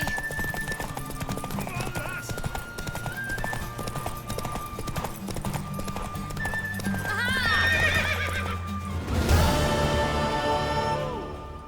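Horse whinnying and hooves clip-clopping in The Witcher 3: Wild Hunt, with a galloping, neighing horse rising near the end over a steady game music bed and background voices.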